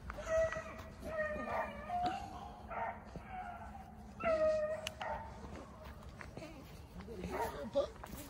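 Hunting dogs bay and yip in repeated high, drawn-out bursts while chasing a rabbit outdoors, loud and close, with short gaps between cries and steady rustling movement underneath.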